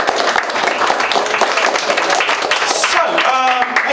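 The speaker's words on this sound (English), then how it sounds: "I'll be starting tonight's show with a big round of applause." A magic show audience at a Plymouth bar breaks into a big round of applause, dense continuous clapping throughout, loud and close, with a voice emerging briefly near the end.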